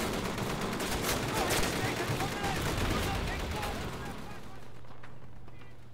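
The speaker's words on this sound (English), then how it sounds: "I'm getting shot from behind?" Gunfire in the WWII shooter Call of Duty: United Offensive, dense overlapping bursts of rifle and machine-gun fire with distant blasts, loud and continuous before thinning out near the end.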